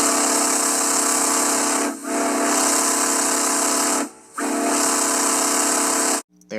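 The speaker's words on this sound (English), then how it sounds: "he would always blow that famous whistle on Junior" A steam locomotive whistle sounds loud and steady in three long blasts with short breaks between them, then cuts off sharply near the end, with no voices over it.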